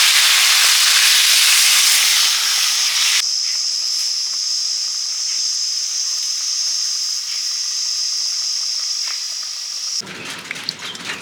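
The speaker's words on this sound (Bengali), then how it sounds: "নেড়ে নিয়েছি, এবার জল দিয়ে দিচ্ছি।" Water poured into a hot pan of frying fish curry with potato, aubergine and dried lentil dumplings bursts into a loud, steady hiss that holds for several seconds, then drops away into softer sizzling.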